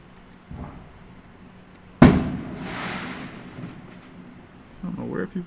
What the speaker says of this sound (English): I don't know where people are getting these fireworks from.